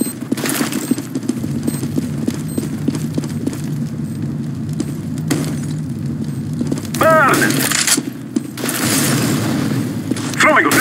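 A flashbang grenade goes off in Counter-Strike: Global Offensive, a loud burst late in the stretch over continuous game noise, with players talking throughout.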